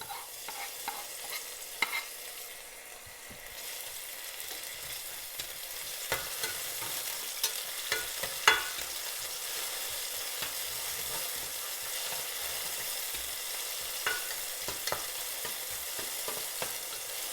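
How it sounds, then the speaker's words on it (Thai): Chili and garlic stir-fried in a hot wok give a steady close sizzle, with frequent scraping and clacking stirring strokes throughout and no talking. "เราใส่พริกลงไปเลยนะจ้ะ"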